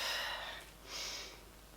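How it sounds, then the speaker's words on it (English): A person lets out an odd, gasping breath while doing standing ab exercises, with two breathy bursts close to the mic, the second shorter and softer, and no talking. "I made a really funny breathing sound then"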